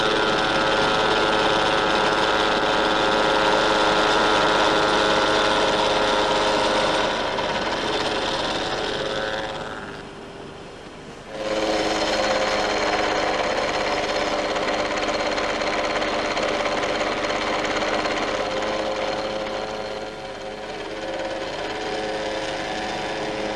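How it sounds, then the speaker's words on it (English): A milling machine cuts toughened steel tool holders with a loud, continuous grinding whine. It drops off briefly partway through and then resumes at full strength. "The holders are made from toughened steel, which first undergoes a series of milling operations."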